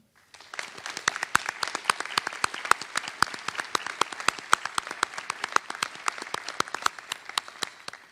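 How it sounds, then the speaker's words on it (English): Audience at a student award ceremony gives a steady round of applause, dense many-handed clapping sustained for several seconds at full volume with no talk. "Another round of applause."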